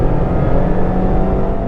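A 2020 Mazda MX5 ND2 on Michelin Pilot Sport 4 tyres powers out of a bend at Snetterton race track, its engine a steady, loud drone heard close up from on board, with no talk over it.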